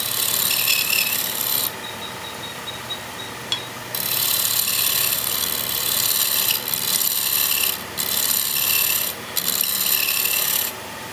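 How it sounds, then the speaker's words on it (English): A turned wood piece is hand carved to hollow out its concave middle, a dry raspy scraping that runs in steady bursts with brief pauses between strokes, close and fairly loud, with no talking. "We just carve out the middle."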